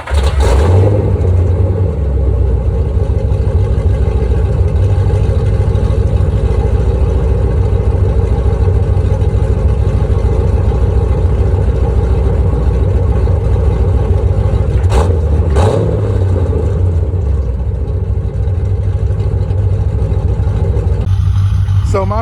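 A 1980s Corvette engine starts and settles into a loud, rough, steady idle close by, with a couple of sharp revs near the end.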